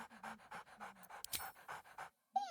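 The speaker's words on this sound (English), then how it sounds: "Scratch barks merrily in something like agreement." Scratch, a video game dog, pants in a quick steady rhythm for about two seconds, then lets out a short bright bark after a brief pause.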